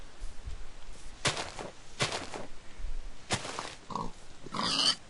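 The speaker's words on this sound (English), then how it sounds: "Oh, there's a pig." A pig in the Minecraft video game gives several short grunting oinks in separate bursts, close and clear with no talking over them.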